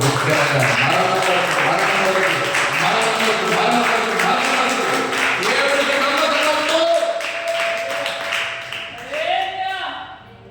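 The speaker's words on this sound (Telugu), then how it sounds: "చప్పట్లు కొడదాం." An audience breaks into loud, sustained applause, dense and even for about seven seconds, then thinning and tapering off toward the end.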